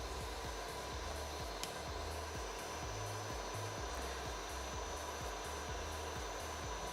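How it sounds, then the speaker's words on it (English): Stepper motors on a Voron v0.2 3D printer whine steadily while it prints, under a constant fan-like hum with a rhythmic low pulsing of moves, close and fairly loud, with no talking. "The motors are quite whiny."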